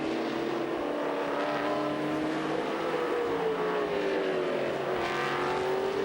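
Speed Car Series race cars lap a track, a loud steady engine drone with pitch rising and falling as the cars accelerate and shift, one car passing closer near the end.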